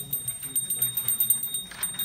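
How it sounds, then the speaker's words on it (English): A small ritual bell rung rapidly and steadily during Gaura-Nitay deity worship, its bright ringing pulsing in quick, even strokes at moderate volume. "we're going to draw the Lord's attention by bell"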